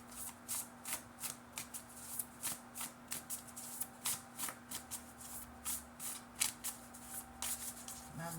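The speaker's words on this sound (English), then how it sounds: "Get some more cards out here." Tarot cards being shuffled by hand, quiet and close, in a steady run of soft riffling flutters and taps with a faint hum underneath.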